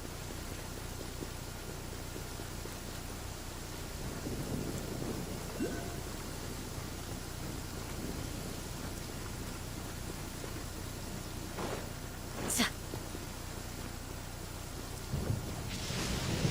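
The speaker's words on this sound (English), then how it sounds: "The thunder rumbles." Thunder rumbles through a steady rainstorm in the video game Genshin Impact, with a constant hiss of rain under low rolling rumbles and one sharper crack partway through.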